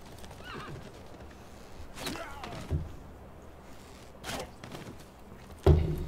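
A horse archer's horse in Civilization 6 whinnies and snorts, with clip-clopping hooves and a few thumps, fairly close and moderate in level, ending on a louder hit.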